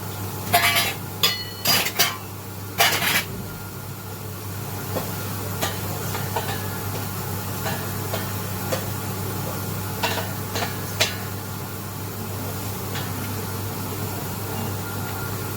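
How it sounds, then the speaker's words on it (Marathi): Poha flakes being dry-roasted in a pan, with a low steady background hiss and scattered sharp clinks and scrapes of stirring, clustered early and again near the end. "आता ह्याच्यात आपण हे पोहे भाजून देऊया"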